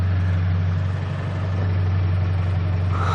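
A Scion FR-S sitting at idle with a steady low rumble and even hum, close by and unchanging, with no voices heard.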